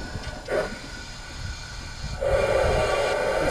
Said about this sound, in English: Train is going all by itself.